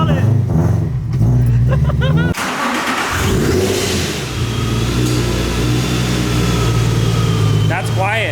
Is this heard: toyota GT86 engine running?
yes